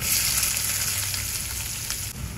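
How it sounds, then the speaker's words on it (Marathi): Onion fries in a pan of hot oil with cinnamon, cardamom, peppercorns, cloves and curry leaves, a constant close hissing sizzle with faint stirring scrapes, quieting slightly near the end. "आपण यावर कांदा घालूया."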